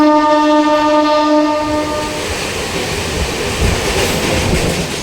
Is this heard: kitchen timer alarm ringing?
no